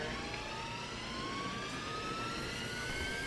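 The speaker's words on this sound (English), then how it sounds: "The engines takes super long to get started back up." Jet engines spooling back up in War Thunder, a steady loud turbine roar with a slowly rising whine that climbs in pitch throughout, no voices.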